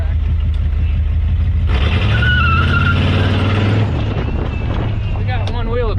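A Ford F-350 shorty truck spins its front tires, the engine revving loud and rough with a surge and squealing tire noise in the middle, close up and continuous throughout.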